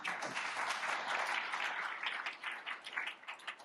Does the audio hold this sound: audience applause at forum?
yes